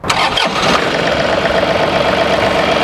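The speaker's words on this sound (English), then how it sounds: "Let's go ahead and start the tractor up." A John Deere 3038E compact tractor fitted with a 300E loader cranks briefly and fires up, then settles straight into a loud, close, steady idle with no talk.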